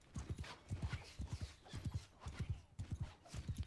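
Rhythmic clip-clop of galloping horse hooves in the video game Mount and Blade II: Bannerlord, in quick repeating clusters, steady and close, with faint background sounds.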